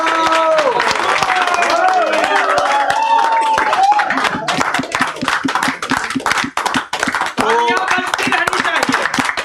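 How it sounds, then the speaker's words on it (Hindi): An audience claps at a Bihar education launch event, dense rapid hand claps building into loud sustained applause while voices cheer and talk over it. "तो एक बार क्लैपिंग हो जाए भाई एकदम ताबड़तोड़ तरीके से"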